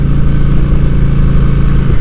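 A Honda Shadow ACE motorcycle engine revved high, a steady loud, close mechanical drone held for a couple of seconds without talk.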